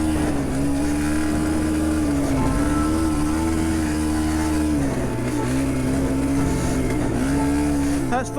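A cheap dirt bike's small engine runs at full throttle, its loud, buzzing note holding high with slight dips and surges as it rides over rough ground, close and continuous.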